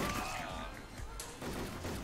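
VKS rifle from the online shooter Wolfteam firing in a few sharp, close game reports amid a busy mix of in-game noise, with a voice talking over parts of it.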